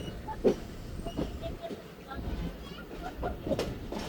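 Thal Express train pulling out of Kundian Junction, a low rumbling rail-car hum with faint clicks and hiss, while people talk quietly nearby.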